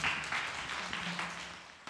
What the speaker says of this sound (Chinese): 我们给他掌声鼓励一下